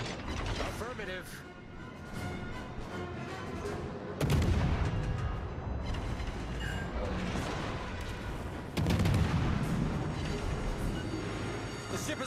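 In the naval battle game World of Warships: Legends, the destroyer Cossack's guns fire at a target as heavy booming salvos. Two strong blasts stand out above a constant mechanical rumble and clatter, with a few faint voice callouts mixed in.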